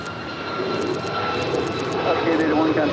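Speedbird 282 Heavy jet taking off at LAX, a loud continuous engine roar filling the scene, with radio-style talk over it.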